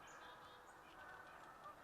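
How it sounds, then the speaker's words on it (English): Faint, distant honks of a Canada goose outdoors, a few scattered calls over a low steady background hiss. "I hear a Canada goose in the background."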